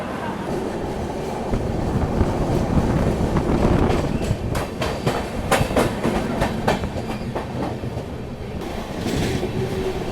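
Aboard the Swarna Jayanti Express in Jharkhand, the train pulls out of a station. A steady rolling rumble runs throughout, joined by sharp rhythmic wheel clacks as it picks up speed, with faint voices in the background.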